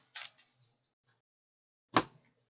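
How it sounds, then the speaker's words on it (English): A few short, quiet riffles of playing cards being shuffled up close: a quick double burst, a pause of near silence, then one sharper final riffle. "I just wanted to give these a few shuffles."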